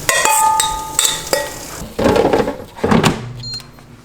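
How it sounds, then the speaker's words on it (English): Tofu pieces being placed into an air fryer, close clinks and clatters of the metal basket, a ringing tap, then a sliding thud and clunk as the basket is pushed shut. "I'm just going to put it in my air fryer to cook it."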